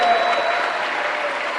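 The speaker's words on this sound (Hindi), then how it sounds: "जरा तालियां बजा दो।" Audience applause at a religious discourse gathering with a revered Jain monk in Agra, a dense, steady wash of clapping from a large crowd, loud and sustained throughout the short moment.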